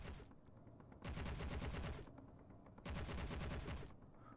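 Turret guns in the Space Engineers game fire in two bursts of rapid shots, each about a second long, loud and close, with a short quiet gap between them.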